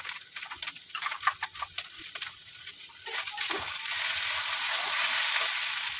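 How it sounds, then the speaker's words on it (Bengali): Paste of ginger, onion, garlic, green chili and tomato sizzling in hot oil in a pan, starting with scattered crackles and spatters, then settling into a steady, close frying hiss. "আদা, পেঁয়াজ, রসুন, কাঁচা লঙ্কা, টমেটো একসঙ্গে পেস্ট করে নিয়েছি, এবার আমি কষিয়ে নেবো।"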